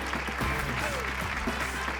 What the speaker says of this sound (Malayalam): നന്നായിട്ട് കൈയടിച്ച് പ്രോത്സാഹിപ്പിച്ച്